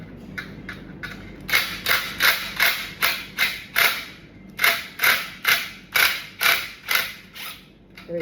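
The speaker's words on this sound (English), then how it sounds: "remove the screw perfectly." A screw is worked out of an SJ Lite device casing in a run of sharp, creaky ratcheting clicks that repeat in a fairly even rhythm, close and loud with no voices.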